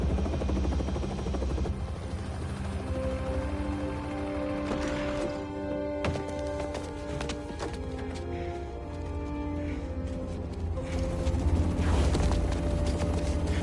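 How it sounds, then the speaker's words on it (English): Helicopter in the Spider-Man 2 video game, a continuous rotor and engine drone with mechanical clatter throughout, alone and steady with a few louder surges. "And Norman's got his fancy helicopter."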